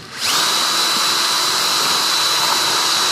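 A power drill runs in reverse, reaming out a cooling hole in a Hobbyking Sunbird 1.6m glider. It makes a steady, close whine with a high tonal edge, starts abruptly and holds constant throughout.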